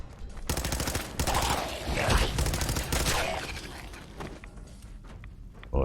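A full-auto weapon in Fallout 4 fires in long, fast-rattling loud bursts while fighting feral ghouls and raiders, then tapers off into scattered lighter clicks and impacts.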